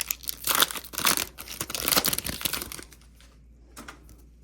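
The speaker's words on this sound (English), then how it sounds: "And I also can't rip a pack." A 2022 Panini Absolute Baseball card pack is torn open up close, giving several loud crinkling rips of foil wrapper over about three seconds before fading to quiet.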